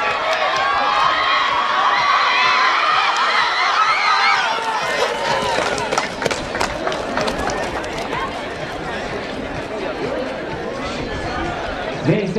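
A stadium crowd cheering at a women's 100 m sprint final in Itajaí, a broad wash of shouts and whoops that swells then settles, with a commentator talking loudly over it throughout.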